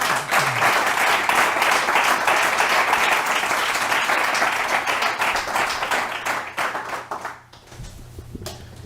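An audience applauds the speakers at the end of a conference on China, with loud, dense clapping that thins out and fades toward the close as a few final claps trail off.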